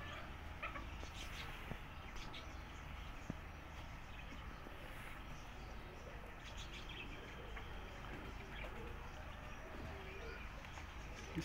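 Soft pigeon coos murmur through a steady noisy outdoor background, with scattered faint chirps and occasional small knocks.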